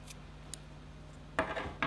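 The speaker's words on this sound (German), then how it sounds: "Jetzt schneide ich den Faden ab." Scissors snip through crochet yarn with a short, crisp metallic clack near the end, preceded by a couple of faint ticks over a quiet room hum.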